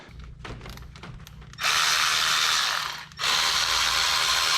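Ratchet wrench with a 10 mm socket backing out long screws during a Corvette water pump replacement, first a series of close quick clicking strokes, then two loud sustained rapid ratcheting runs broken by a short pause.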